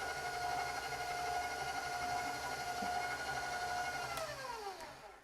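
An electric hand or stand mixer runs steadily on medium-low through red velvet cookie dough, a continuous motor whine that holds even and close, then winds down and drops in pitch near the end, with no talking.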